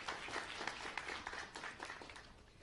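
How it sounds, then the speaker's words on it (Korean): An audience claps after a project presentation at a game creation audition event, a brief busy patter of hands at moderate distance, fairly soft and without talk. "발표에 수고해주신 프로젝트 6에게 다시 한번 큰 박수 부탁드립니다."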